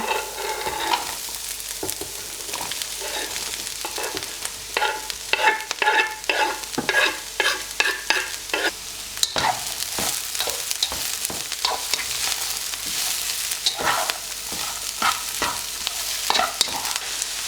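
Chilli ingredients frying and being stirred in a pan, with a steady loud sizzle broken by repeated scraping strokes of the spoon, continuous and close throughout, with no talking.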